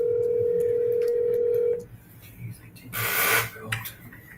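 A mobile phone placing an outgoing call: a steady tone holds for under two seconds and then cuts off, followed by a short burst of noisy signal, with faint background murmur throughout.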